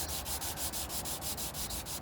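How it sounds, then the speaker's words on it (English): Rapid rhythmic wet sanding of car paintwork on a Daihatsu Materia, a hissing rasp repeating in even back-and-forth strokes, close and steady, with no talking. "we'll start sanding from there down there"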